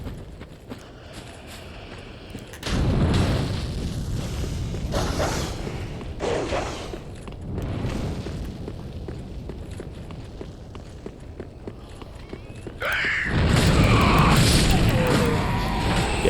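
A self-destructing enemy in Dark Souls III erupts in heavy booming blasts, first at about three seconds and again near thirteen, loud and close, with smaller crashes and whooshes between them.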